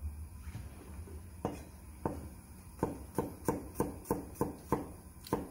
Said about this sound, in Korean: 편으로 이렇게 썰어 주시면 되겠습니다